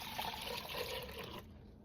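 Soft, quiet liquid pouring as milk is measured out for Instant Pot yogurt, a steady trickling fill lasting over a second before it stops, with no talking.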